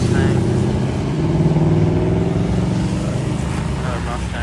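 A Ford Mustang pulls away from a rainy cars-and-coffee meet, its engine revving at moderate volume from close by with a steady drone, while people chat over it.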